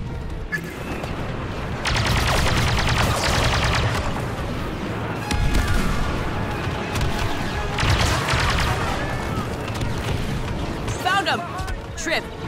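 Blaster-style gunfire laying down cover fire in a Star Wars Battlefront 2 battle on Jakku: loud, dense, sustained volleys with booming impacts, running nearly the whole time under occasional voices.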